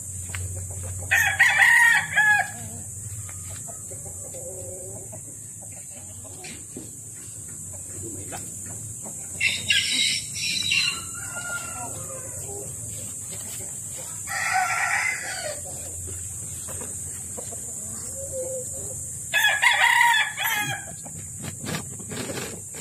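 Japanese Shamo roosters crow several times, spaced apart, with hens clucking in between against a steady background hum.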